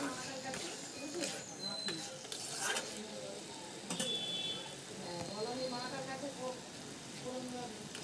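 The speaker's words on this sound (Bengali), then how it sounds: "ভেজে রাখা আলু আর ওলগুলোকে একসঙ্গে দিয়ে দিলাম, দিয়ে ভালো করে একটু নেড়ে দিচ্ছি" Fried potato and yam pieces are stirred through cooked-down spices in a pan, giving steady scraping and soft sizzling for several seconds, with a voice talking over it at times.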